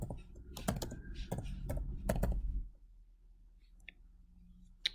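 Fingers tap a computer keyboard in a quick, uneven run of close clicks for about three seconds, then the keys fall silent apart from a faint tap or two.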